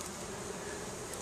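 Honey bees buzz inside a hive after an oxalic acid vapor treatment, a low, steady, muffled drone that is faint and continuous, with no voices.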